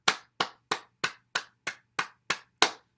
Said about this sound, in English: Then we'll clap our hands.